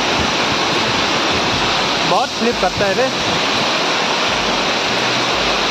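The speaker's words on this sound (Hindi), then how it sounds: "बहुत पानी गिर रहा है" Tyrshi Falls in Shillong, Meghalaya roars as a loud, constant close-up rush of falling water that drenches the listener, with someone speaking briefly under the din.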